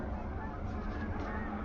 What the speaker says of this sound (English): You hear the geese in the background